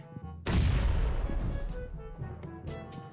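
A loud, booming explosion erupts suddenly in PUBG Mobile, followed by a rumbling, crackling decay with scattered smaller bangs.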